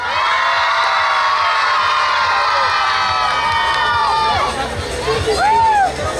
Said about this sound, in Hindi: अगेन एक बार जोर से चिल्ला सकते हो आप सब?